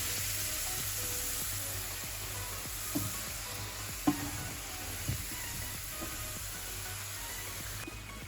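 Potato bhujuri frying in plenty of oil in an iron pan, a soft continuous sizzle with a few faint utensil taps near the middle, fairly quiet and steady.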